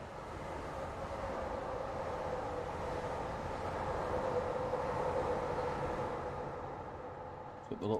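A train rumbles steadily past in the Train Simulator Classic game on the Glasgow Suburban Airdrie Extension route, a sustained low roar that fades toward the end.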